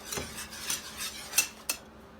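A whisk clinks and scrapes against a bowl while egg yolk is beaten into cheese soufflé batter, giving a few sharp metallic taps between softer stirring swishes, close and fairly quiet.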